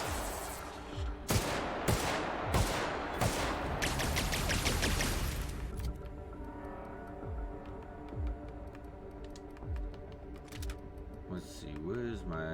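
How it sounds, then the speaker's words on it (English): Hand cannon gunfire in the video game The Outer Worlds sounds as a rapid burst of loud, sharp shots followed by scattered single shots and clicks, with other game sounds underneath. "This actually is a badass hand cannon."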